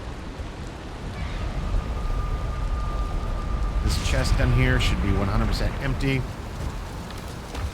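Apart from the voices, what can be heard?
rain in the video game Valheim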